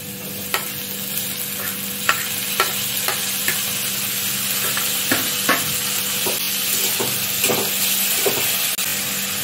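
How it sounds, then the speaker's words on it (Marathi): Finely chopped tomato stirred into a hot pan with asafoetida while cooking a restaurant-style dal khichdi: a steady close sizzle and frying hiss, punctuated by a dozen or so sharp spoon clicks and scrapes against the pan. "आता आपण टोमॅटो बारीक चिरून घेतलाय, तो पण टाकून घेऊया।"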